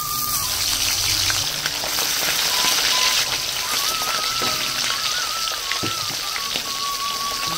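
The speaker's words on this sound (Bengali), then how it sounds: "আমার তেলটা গরম হয়ে গেছে আর আমি এক এক করে মাছগুলো দিয়ে দেবো, নুন হলুদ মাখানো" Salt-and-turmeric-rubbed tilapia pieces dropped one by one into hot oil, giving a steady, dense crackling sizzle that runs loud and continuous from start to finish with no talking.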